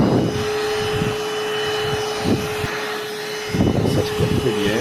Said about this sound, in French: En rien de temps en fait tu te dégaines ton aspi, il n'y a pas besoin de brancher de prise